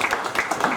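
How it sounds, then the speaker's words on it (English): Audience applause for two people being welcomed to pitch on stage at a business pitching event, a brief burst of steady clapping from a crowd in a room. "So a round of applause for Phil and Carl."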